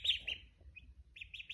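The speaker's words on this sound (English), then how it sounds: "We got ducks. We got a turkey and 3 chickens" Poultry calling in a small farmyard flock of ducks, a turkey and chickens: a few short, high chirping calls at moderate distance, with a brief gap between bursts and no talk.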